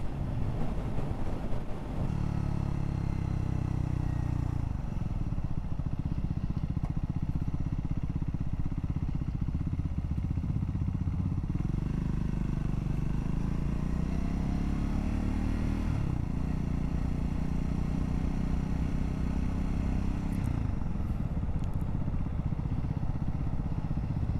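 Triumph Scrambler 400 motorcycle cruising in 6th gear at highway speed, a steady loud engine drone with wind rush running continuously, the pitch rising and falling slightly with throttle changes.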